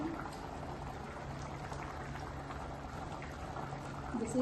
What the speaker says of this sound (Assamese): এইখিনি উতলিছে নহয়, এতিয়া মাছখিনি দি দিওঁ।